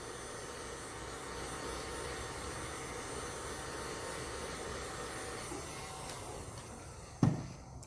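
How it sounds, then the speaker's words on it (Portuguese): An air blower or hair dryer runs steadily while drying paint on a rabbit figure, producing a faint, even whooshing hiss that ends with a sharp click or thump near the end. "O uso do soprador ou do secador de cabelo agiliza muito o trabalho na pintura."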